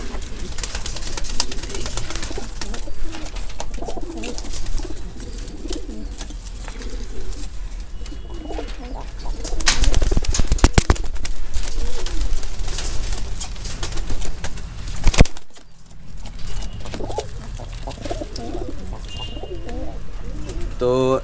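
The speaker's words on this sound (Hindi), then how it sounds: "ये देखिए, ये कबूतर हैं सारे, इसमें नीले भी हैं, कलसरे भी हैं और सहारनपुरी क्रॉस भी हैं।" Desi highflyer pigeons, including blues, kalsare and Saharanpuri crosses, coo repeatedly and close by, with soft rustling and a sharp knock partway through.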